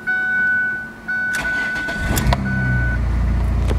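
A 2004 Ford Focus ZXW station wagon engine cranks briefly and catches, settling into a steady idle with a slightly rough, rattly tone; a faint tonal whine runs beforehand.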